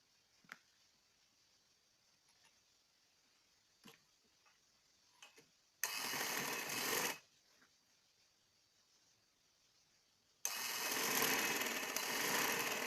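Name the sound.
sewing machine stitching the side seam of a peplum top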